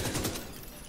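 A quick burst of rapid gunfire in The Division 2 video game, several shots in a row, faint and slightly distant, with no voices.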